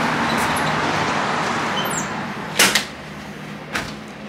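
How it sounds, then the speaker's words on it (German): In a room during a road trip through the US Southwest, a suitcase is set down and a door swings shut, giving two close knocks and a later softer thud over a steady background hiss. "mal den Koffer abstellen und die Tür schließen"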